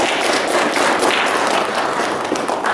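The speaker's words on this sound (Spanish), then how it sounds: "Un aplauso por el apostolado que hace Guillermo." A congregation at a Spanish-language Catholic Mass applauds inside a church, a dense, steady wash of many hands clapping that fills the room evenly for a few seconds.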